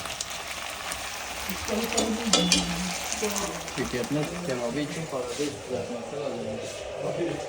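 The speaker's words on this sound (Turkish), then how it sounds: "Ben de patates kızartıyorum." Potatoes fry in hot oil in a home kitchen, giving a steady broadband sizzle and bubbling throughout, with people talking over it nearby.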